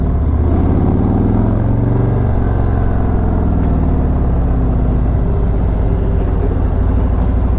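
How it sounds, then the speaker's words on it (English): A 2017 motorcycle rides along at light throttle with early short shifts, its engine a steady, close, loud drone that rises and falls slightly between gears. Continuous wind rush runs underneath. "I can ride through here with just hardly any throttle. Just kind of short shift it."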